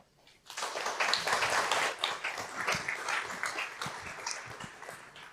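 A conference audience breaks into applause after a talk, with dense, steady clapping that rises quickly, holds, and slowly thins toward the end.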